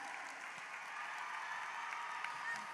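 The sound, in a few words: audience applause at a graduation ceremony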